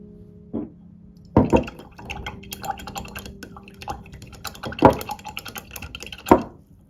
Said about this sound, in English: Wash this brush off.